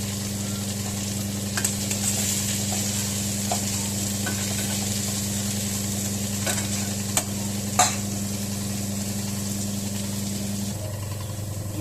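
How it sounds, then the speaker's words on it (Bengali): Onion, ginger and chili frying in a pan give a steady close sizzle over a low constant hum, with a few sharp clicks from stirring. "পেঁয়াজ আর আদা ঝাল এগুলো একসাথে একটু ভাজা ভাজা করে নেবো"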